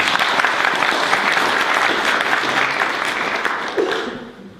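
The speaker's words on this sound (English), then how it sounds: "Give her a round of applause." Sustained audience applause at a food poverty forum, a dense steady clatter of many hands that fades out over the last second.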